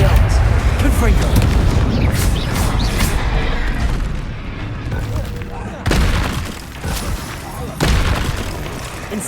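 Confringo blasting spells exploding during a troll fight in Hogwarts Legacy, with several sharp booms and crashing impacts over busy combat noise, while voices call out spells.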